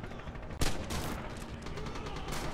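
Gunfire rattles through a Red Orchestra battle, with a sharp nearby shot followed by continuous dense distant volleys and crackling fire.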